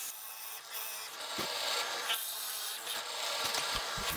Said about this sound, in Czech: Tady povedu řez polovičním úhlem, než je budoucí zalomení na ruce.